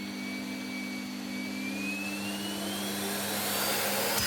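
A Sebo K3 Premium canister vacuum cleaner runs at full power, its motor a loud steady roar with a high whine that rises slowly in pitch as it spins up, heard close with no talking.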